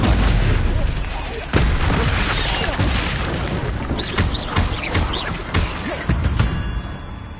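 Combat spells cast in Hogwarts Legacy crackle and boom in quick succession, with sharp impacts, whooshes and bursts layered over a dense, busy background while a voice talks.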